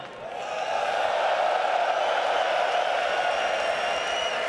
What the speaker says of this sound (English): Richard, it's that time again to check in with our crowd here in the Royal Arena